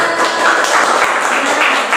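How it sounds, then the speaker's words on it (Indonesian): Classroom group applause for a student during an interactive discussion lesson, a steady dense wash of many hands clapping at once, loud and close, holding evenly throughout with no talk over it. "Tepuk tangan untuk Aura."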